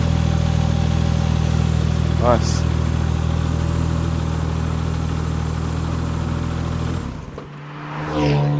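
A Porsche 996 Turbo's engine drones steadily at cruising speed on the open road, a loud low hum that drops off near the end, with a brief spoken remark over it.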